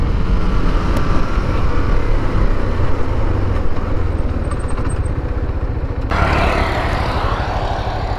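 A motorcycle ridden hard in fifth gear gives a loud, steady engine drone mixed with rushing wind noise. The tone shifts brighter near the end, and no one speaks.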